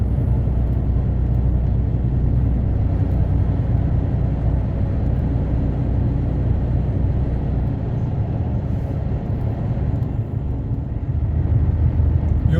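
A truck rolls into the Gyeongju tunnel entrance on a Sunday evening, a loud, steady engine and road rumble that holds constant throughout with no voices.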